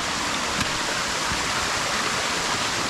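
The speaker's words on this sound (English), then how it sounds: "That water's coming out of the ground from a pipe." Water pouring from a pipe set in old, algae- and moss-covered concrete into a woodland stream, a steady broadband rush of flowing water heard close and continuous, with no voices.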